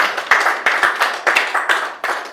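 Several sharp, evenly spaced claps ring out close by, like a small group applauding briefly in a rhythmic pattern.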